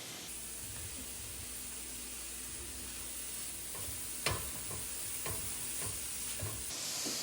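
Ham sizzling in a pan, a steady close fry hiss throughout with a few scrape and stir knocks toward the end, no talk.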